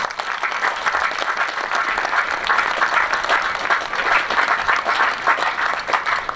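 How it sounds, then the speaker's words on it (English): An audience at the West of England Bandsmen's Festival bugle band contest gives a round of applause for the sponsors, with dense, steady clapping from a crowd throughout, fairly close and sustained. "a round of applause for all our sponsors,"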